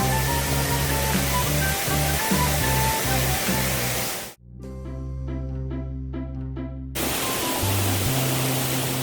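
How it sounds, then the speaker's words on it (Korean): A cool waterfall beside a mountain hiking trail on Yeonseoksan in Wanju, pouring as a loud, steady broadband roar, briefly dropping out in the middle before the rushing water returns. "그곳에 시원한 폭포가 흐르고 있습니다."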